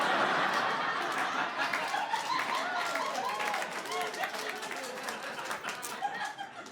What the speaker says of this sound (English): Thank you for applauding Coinstar.